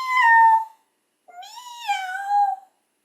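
A human voice imitates a rusty spotted cat, giving two high-pitched, drawn-out meows separated by a short pause.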